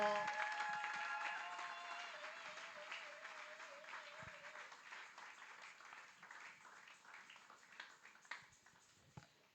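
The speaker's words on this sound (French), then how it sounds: "Est-ce que l'Église peut la recevoir ce soir avec des acclamations?" A church congregation applauding at an evening service, a broad wash of clapping from many hands that holds steady and gradually thins and fades, with a few held musical tones at the start.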